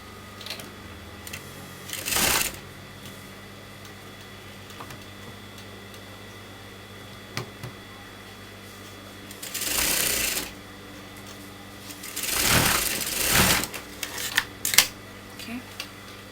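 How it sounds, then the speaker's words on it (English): A sewing machine stitching the armhole of a kameez runs in several short bursts of rapid mechanical chatter, separated by quiet pauses with faint background noise. "So now I'm going to sew my armhole."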